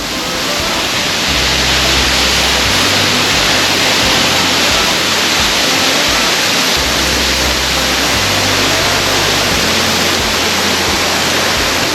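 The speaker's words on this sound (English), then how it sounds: "I'm underneath the waterfall." Roaring waterfall at Dry Falls near Highlands, heard from underneath the falling water: a loud, dense, unbroken rush filling the whole stretch with no voices.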